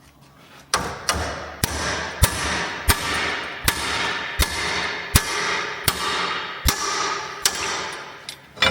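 A 50mm spanner is struck to loosen a large rear wheel bearing nut on a VW Amarok, giving about a dozen loud, sharp metallic hammer blows at a steady, regular pace with brief ringing between them.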